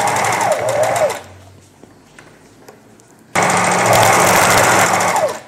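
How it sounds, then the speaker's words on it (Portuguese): A domestic sewing machine stitches down the center of an elastic strap, giving two bursts of fast, steady motor whirring and needle chatter, close and loud, separated by a quiet pause of a few seconds. "vou passando a costura bem no centro da tira"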